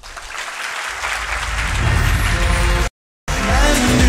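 An audience bursts into applause for a singer at an awards ceremony, clapping swelling from moderate to loud and sustained, with a brief dropout partway through.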